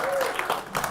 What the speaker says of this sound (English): John, while we got all the applause happening